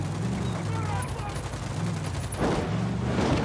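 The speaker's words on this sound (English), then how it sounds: "Roger that. I'm opening fire." Rapid bursts of automatic gunfire in the video game Ghost Recon Wildlands, dense and continuous over a low rumble, close and loud, swelling toward the end.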